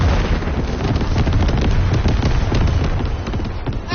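Dense, continuous rumbling explosions and crackling blasts, loud and overlapping for the whole stretch, game-like in texture.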